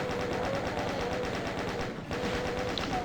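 Rapid automatic weapon fire in the video game DOOM, a continuous dense stream of shots with barely a pause, loud and sustained throughout, with no talk over it.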